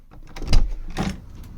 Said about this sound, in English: This is the door.